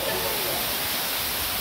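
Nhavankond waterfall near Talebazar pours as a steady, dense broadband roar that fills the whole short moment without a break.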